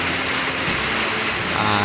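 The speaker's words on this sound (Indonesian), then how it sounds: "hujan guys. Nah, hujan." Steady rain falls around a longhouse in a continuous broadband hiss that stays loud and even throughout, with no voices over it.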